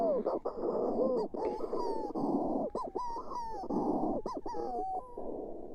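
Harsh, rhythmic Manx shearwater calls played back from a speaker to the birds during a census, repeated gasping, crooning phrases with breathy pauses between them.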